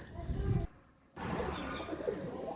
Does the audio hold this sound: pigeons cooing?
yes